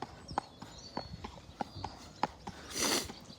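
Ridden warmblood horse's hooves clip-clopping in an irregular series of sharp, fairly close strikes, with a brief rushing noise near the end and no talk.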